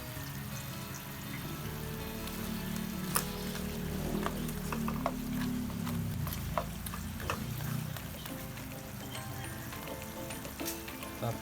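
Fried milkfish (bangus) hits the pan and sizzles steadily, a soft continuous frying hiss with scattered small pops and crackles throughout, fairly quiet and close.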